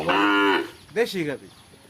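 A calf born to a local cow bellows twice, a long loud moo followed by a shorter one after a brief pause, close by with no talk.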